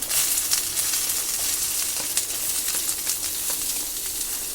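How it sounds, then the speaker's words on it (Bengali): Potato and bean pieces fry in a pan with hing and ginger paste, giving a steady close sizzle with faint scraping as they are stirred, no voices. "আলু আর বিনসটা একসাথে দিয়ে নাড়াচাড়া করে হালকা করে ভেজে নিলাম"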